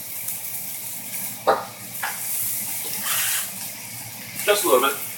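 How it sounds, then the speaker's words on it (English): Water splashed into a hot pan where steak is cooking, bursting into watery sizzling and bubbling with a few sharp splashes over a steady hiss. "I'm going to put a little water in that pan."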